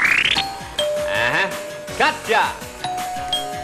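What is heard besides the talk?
game show doorbell buzzers being tested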